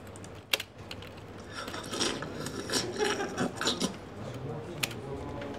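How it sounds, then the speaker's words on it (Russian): Melon being eaten up close: crisp wet crunches and slurpy chewing in irregular bursts, with a few sharp clicks at the start and near the end, moderately quiet. "Вот звук поедания дыни."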